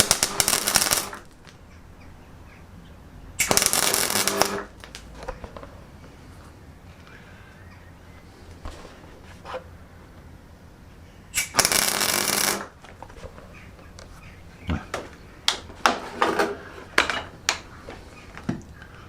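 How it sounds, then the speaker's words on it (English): Steel ends of a tapping stand being tack welded, with three short bursts of loud crackling hiss, close by, separated by quiet pauses and followed by scattered clinks of metal handling. "I'm just going to tack weld the ends"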